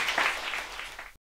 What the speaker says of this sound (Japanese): 温かい拍手に包まれて幕を閉じました。